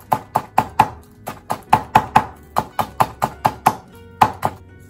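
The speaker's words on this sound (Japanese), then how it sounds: "刻んじゃいますね。" A knife chops the inner core of a green onion on a cutting board, with about seventeen crisp, evenly paced taps, some in quick bursts and then a short pause, close and clear with no talk.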